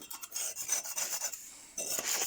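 Small knife and brush scraping and scrubbing soot from the hood at the base of the flue passages of a Rika Evo Aqua pellet stove, close, dry rasping strokes in quick irregular bursts, with no talk.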